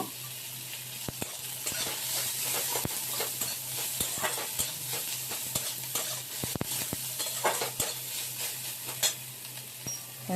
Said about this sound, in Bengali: ওটাও এর সাথে একটু ভালো করে ভেজে নেব